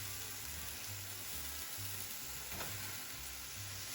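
Tomatoes roasting in a pan for salsa, a faint, steady sizzle and crackle of frying with no talk.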